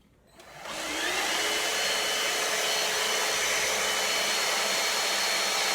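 Bissell Bolt pet vacuum cleaner switching on and running with its rotating bristle brush engaged, a steady, loud whirring motor hum that rises within the first second and holds constant, with no voices.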